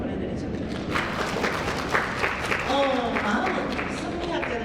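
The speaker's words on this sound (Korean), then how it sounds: "박수 한번 보내드리죠." An audience at a humanities lecture festival claps through much of the span, moderately loud, with scattered voices and some shuffling alongside the clapping.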